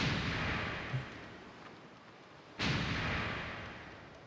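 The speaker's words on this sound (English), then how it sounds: "That's the power of the rune, that's the power of the rune cannon" Two booming blasts from a rune cannon on a ship in the Suikoden V video game, a faint thud early on and a sharp, louder blast later that rolls away slowly.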